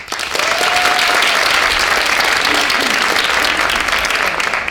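A theater audience at a public policy show breaks into a full round of applause, dense and steady clapping that holds at an even level throughout.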